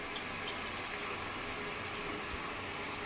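Water poured into a pot of rice, two cups for one cup of rice for chicken pishpash, making a steady near splashing trickle throughout with no talking.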